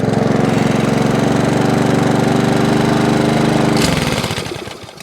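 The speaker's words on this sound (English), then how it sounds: "that's that little Sovereign lawnmower now all up and running exactly as it should do" A small Sovereign SV150 petrol lawnmower, freshly repaired, runs steadily at close range with a loud, even engine drone, then cuts out near the end and winds down into quiet.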